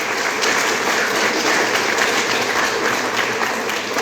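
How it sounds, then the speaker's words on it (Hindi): Steady dense applause from an audience at a Hindu Navratri religious gathering honoring a priest, continuous and moderately loud throughout without a break. "कृपया एक तालियां बजाइए हमारे व्यास जी के लिए।"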